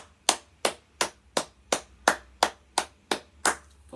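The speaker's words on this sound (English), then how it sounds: "let me applaud you" Ten sharp hand claps in a steady, even rhythm, close and crisp, with a faint low hum underneath.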